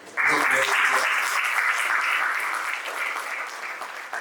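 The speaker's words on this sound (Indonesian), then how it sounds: "Tepuk tangan untuk beliau." Sustained audience applause at an inspirational Indonesian corporate talk, starting abruptly, loud and dense, then gradually thinning toward the end, with a faint voice briefly underneath at the start.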